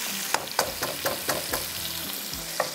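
Onions fry in a pan for beef mince qeema, a steady sizzle broken by several sharp stirring and scraping knocks at a regular pace, no speech.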